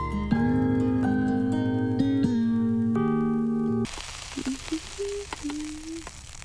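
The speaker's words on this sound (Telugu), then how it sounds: "పూరీలు నూనెలోనే వేస్తారే, నీళ్ళలో కాదు." Puris frying in oil in a Telugu comedy film scene: after a run of sustained musical tones, a broad, steady sizzle takes over, with short tonal blips and pops on top.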